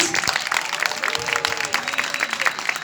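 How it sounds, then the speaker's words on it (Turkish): A theatre audience at a Turkish comedy film event claps in a dense, steady burst of applause that fills the room, loud and close, with scattered crowd noise mixed in. "Biliyorum elinizde telefonlar varken alkışlamak biraz güç olacak"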